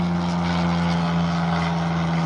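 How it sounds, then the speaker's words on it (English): Steady, loud engine drone from an airplane flying low overhead next to an airport, a constant steady hum that does not change for the whole stretch. "I live next to an airport, so it's always gonna be planes."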